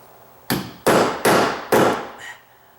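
A thick putty knife strikes a loose metal door hinge four times in a steady rhythm, each hit loud, sharp and close, with short gaps between them and no talking.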